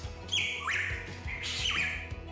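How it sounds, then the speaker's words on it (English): A hooded pitahui, a toxic songbird, gives two loud, harsh squawking calls, each sliding downward in pitch, separated by a short pause and standing alone without any talk. "let me introduce you to the hooded pitahui"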